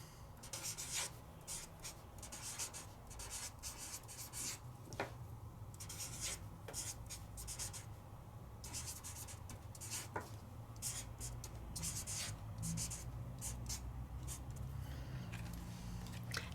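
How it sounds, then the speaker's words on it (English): A brush-tip marker with bristles writes on paper in short scratchy strokes. Soft, close and intermittent, with brief pauses between words. "just writing."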